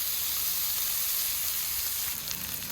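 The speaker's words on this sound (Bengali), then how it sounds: "এটা নাড়িয়ে নেব" Greens cooking in a pan with shrimp coated in salt and turmeric give off a soft, even sizzle and hiss, fairly quiet, with only faint stirring.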